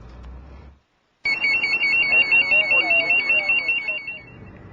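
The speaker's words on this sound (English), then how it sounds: "firefighters also now all wear personal alert safety systems. They send out an alarm if they are ever in trouble." A firefighter's personal alert safety system sounds off after a short pause, a loud, warbling, high-pitched electronic alarm that keeps repeating in steady pulses for several seconds, with faint talk underneath at first.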